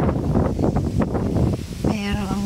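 Strong wind at a seaside resort in Pandan, Catanduanes, buffets the microphone in a loud, continuous rumbling rush, with a brief voice near the end.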